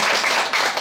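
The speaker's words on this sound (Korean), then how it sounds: "박수 한번 해주십시오" Brief burst of clapping from a small audience at a Buddhist Sunday dharma service in a temple hall, close and fairly loud, with individual claps blending into a short patter.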